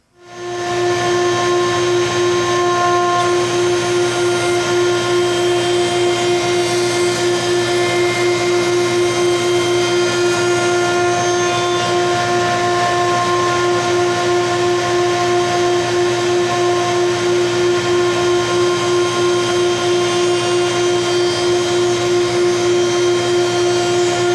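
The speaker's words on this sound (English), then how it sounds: "So let's get the dados cut, or the stopped dados." A power tool, likely a router, runs steadily while cutting stopped dados into wooden face-frame pieces for a vegetable bin, a loud continuous whine with tonal hum from start to end, no talking.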